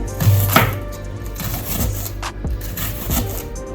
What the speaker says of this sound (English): what I'm gonna be doing is just cut up my seasoning for my saltfish